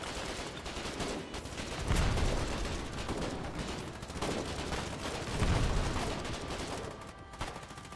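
Enemy soldiers open fire in the war game Foxhole, a dense run of overlapping gunshots and bursts with two heavier, louder booming volleys around two and five and a half seconds, at mid distance and without talk.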